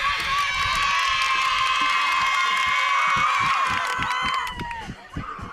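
A crowd of Cypress fans cheers, shouts and claps after a high school softball win over Santa Ana, a loud sustained roar with steady clapping that tapers off near the end, with an announcer talking over it.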